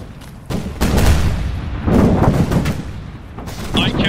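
Gunfire aimed at an attacking aircraft in a video game: loud, repeated bursts of heavy shots and booms in quick succession.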